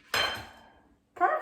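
Frozen Smucker's Uncrustables being taken out of an air fryer: a short metallic clink and rattle of the basket, a pause, then a second brief clatter, close by and alone.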